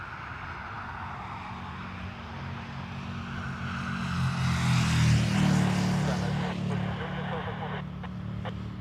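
Turkish Airlines airliner from Istanbul landing at Dublin Airport, a steady distant jet roar that swells to a peak midway and then slowly fades, with voices talking over it.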